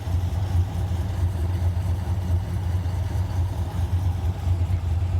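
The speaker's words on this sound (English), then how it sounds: "driving this thing home with the valves closed like this, it's almost like there is no exhaust" A 2014 Jeep Grand Cherokee engine runs steadily with its Valvetronic exhaust valves closed, giving a low, muted, even drone with no revving throughout.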